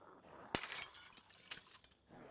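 Window glass smashed in a zombie survival video game, a sharp sudden shatter followed by tinkling fragments and a second smaller burst of breaking glass, close and alone.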